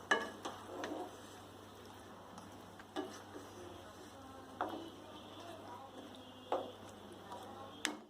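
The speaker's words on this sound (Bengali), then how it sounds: "পুরো চিকেনটা অ্যাড করার পর এটা খুব ভালোভাবে নাড়তে হবে" Marinated chicken is stirred in a pan over a high flame, giving a soft, low sizzle with periodic scraping knocks from a spoon every second or two, faint and steady.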